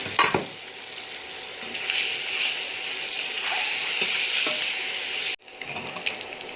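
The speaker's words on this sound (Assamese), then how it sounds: "তেলটো গৰম হ'ল, কণীখিনি কৰচিয়াই নিমখ হালধি সানি থৈছিলোঁ, এতিয়া ভাজি ল'ম।" Eggs coated with salt and turmeric fry in hot oil with a close, continuous sizzle and crackle, then the sound cuts off abruptly and resumes more quietly with a few clinks.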